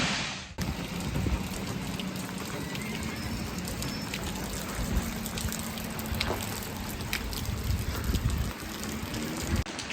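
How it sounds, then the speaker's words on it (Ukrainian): Steady rain falls continuously, a dense patter of drops on surfaces with a soft water trickle, loud and close, no voices. "Дощ не вщухає цілий день."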